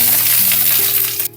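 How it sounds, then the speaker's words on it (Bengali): Eggplant pieces sizzle loudly in hot oil in a pan, a dense, steady crackle heard alone that cuts off abruptly near the end. "এবার বেগুনগুলো ভেজে নিচ্ছি।"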